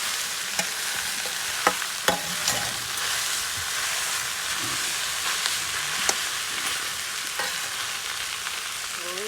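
Khoya roasts in a pan with ghee and sugar for Almora bal mithai, producing a constant close sizzle broken by sharp scrapes and taps of a spatula stirring.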